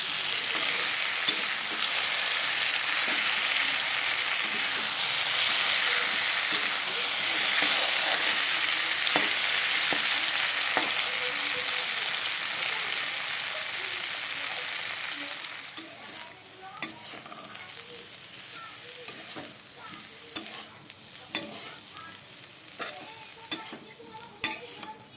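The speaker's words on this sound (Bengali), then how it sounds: "আলুটা ভেজে নেই, তারপর আবার তোমাদের সাথে চলে আসব।" Potatoes with turmeric fry in a pan, a steady loud sizzle for the first half that fades and thins, giving way to a series of sharp scraping and stirring clicks from a utensil against the pan.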